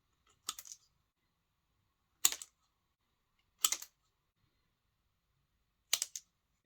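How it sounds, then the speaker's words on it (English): Metal scissors snip the corners off a thin metal spinner blade for pike fishing lures: four sharp, crisp cuts at spaced intervals, close and isolated against near silence. "First we have to cut the corners,"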